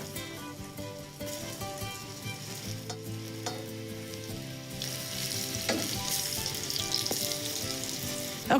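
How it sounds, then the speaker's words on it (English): Eggplant slices fry in a little oil in a pan, giving a continuous close sizzle that grows busier toward the end, with occasional stirring and scraping sounds. "finish frying the eggplants, just like that"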